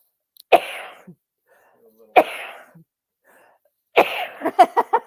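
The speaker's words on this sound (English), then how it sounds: "Sneezing fit." Three sharp, explosive sneezes spaced a second or more apart, the last followed by a rapid run of smaller bursts, close and loud with quiet gaps between.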